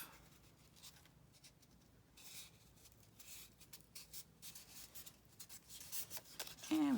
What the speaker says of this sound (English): we'll fold this in half